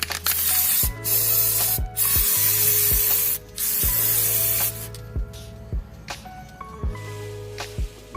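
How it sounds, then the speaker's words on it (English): Chaos Black primer is sprayed from a can onto a plastic model kit in a series of short hissing bursts, loud and close, with brief pauses and clicks between them. "I started off by applying a base coat of Chaos Black Primer"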